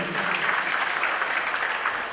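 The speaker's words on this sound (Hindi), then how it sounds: "तो हुनको एक बार जोरदार ताली बजा दियो" Audience at an award ceremony for high-scoring students claps in a sustained round of dense applause, even and continuous throughout, with no clear voices over it.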